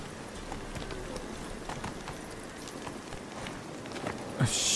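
Soft hoofbeats of a horse in The Witcher 3 trot in a steady clip-clop rhythm under a low ambient bed, fairly faint throughout.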